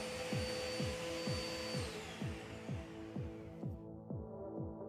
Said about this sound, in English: That might have been a vacuum cleaner.